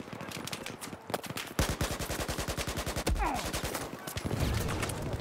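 Rapid automatic gunfire in the shooter game Battlefield 4, bursts of fast, evenly spaced shots with a long continuous stretch in the middle, close and punchy, with faint game background sounds between bursts.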